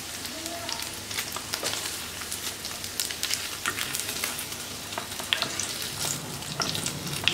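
Paneer cubes frying in hot oil in a kadai, giving a steady crackling sizzle with scattered spitting pops throughout, fairly close and moderately loud, with no talk over it.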